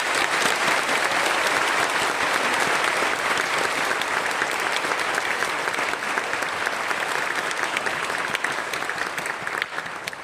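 An audience at a church prayer meeting applauds to welcome a guest speaker, with dense, steady clapping that fills the room and holds at an even level for about ten seconds without talk.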